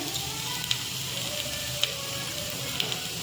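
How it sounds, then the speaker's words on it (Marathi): Pav bhaji masala roasting in a hot pan with tomatoes and onions gives a steady, even sizzle, broken by a few faint, evenly spaced clicks. "मसाले भाजून घेऊया आपण हे सगळे"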